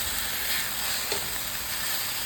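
Cabbage stir-fried with fish sauce in a hot pan gives a steady, close sizzle with a constant bright hiss. A faint stirring scrape comes through the frying, and no one speaks.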